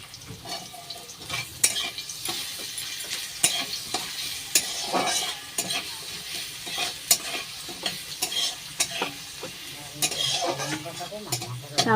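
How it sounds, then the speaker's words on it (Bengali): Spices, dried red chillies and chopped garlic sizzle steadily in hot oil for water spinach, with frequent sharp clinks and scrapes of a spoon stirring against the pan, close and clear with no talking. "মা কালো জিরা শুকনো লঙ্কা ফোড়ন দিয়ে দিয়েছে"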